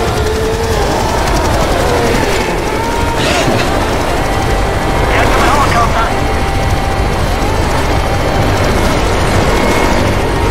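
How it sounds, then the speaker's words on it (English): A rescue helicopter in Left 4 Dead 2 on the Parish shipyard finale, a loud, steady rotor drone that fills the whole stretch, with gunfire and shouting voices mixed on top. "Get the helicopter!"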